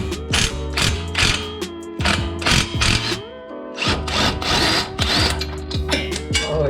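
Heavy duty impact gun hammering loose coilover bolts on a Toyota FRS, loud rapid rattling bursts with whirring spin-downs in between, repeated several times up close.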